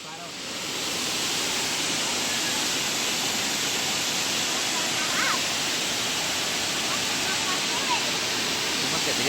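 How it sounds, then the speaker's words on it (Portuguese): A waterfall on a grandparents' country property pours in a steady, dense rush of white water that fills the clip from start to end, loud and unbroken. "João Miguel, gostou da cachoeira?"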